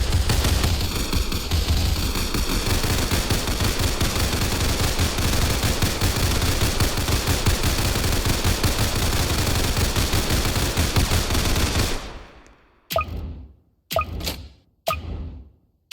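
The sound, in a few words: gunfire from militant tower in Roblox Tower Defense Simulator video game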